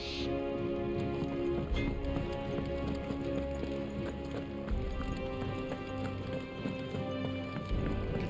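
Horse hooves clip-clop steadily over a rumbling horse-drawn wagon and ambient background in the video game Final Fantasy XVI, with a faint patter like rain.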